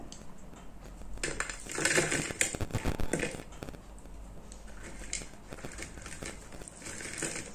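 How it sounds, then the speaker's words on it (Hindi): Crisp fried onion pakoras clatter and rustle as they drop onto a plate, a brief burst of crunchy tapping that settles into quieter shuffling. "भजिया की आवाज़ से जो कि प्लेट में डालते हुए एकदम टन से सुनाई दे रही थी"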